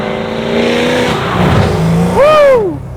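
A 1969 Chevrolet Camaro RS/SS restomod with a Magnuson-supercharged 6.2-liter LS3 V8 of over 700 horsepower, loud and close, holding a steady drone before a sharp rev that rises and falls near the end.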